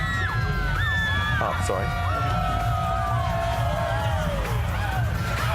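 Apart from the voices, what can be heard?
Mardi Gras parade crowd cheering and whooping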